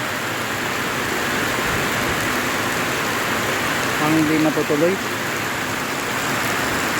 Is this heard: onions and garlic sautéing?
no